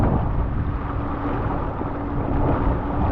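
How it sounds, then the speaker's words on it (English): Steady wind roars across the microphone aboard a Mirror dinghy under sail, a constant broadband rush with no speech and nothing else distinct. "non-stop wind"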